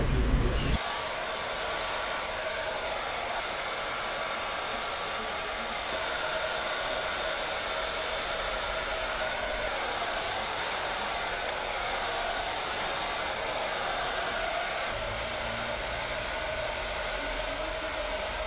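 A hair dryer blows on hair roots during a salon blow-dry and straightening session, switching on after a brief start and running as a loud, steady, continuous whoosh with no talk.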